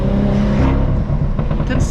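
A straight-piped BMW M2 exhaust roars close and loud on a country road as turbo boost comes on, the engine note shifting and building throughout.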